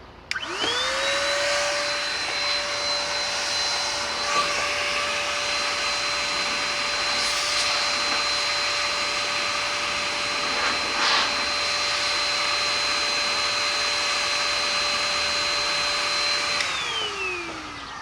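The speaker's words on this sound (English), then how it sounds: "This blower has a very soft rubber nozzle, so in theory you cannot scratch your vehicle with it." An air blower with a soft rubber nozzle dries a ceramic-coated car, spinning up with a rising whine, holding a loud steady rushing roar with a high tone, then winding down at the end.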